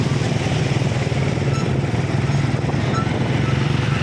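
A motorcycle rides through flood water in Balagtas, Bulacan during typhoon Crising, its engine giving a steady, continuous drone over a constant wash of noise, with no pause across the stretch.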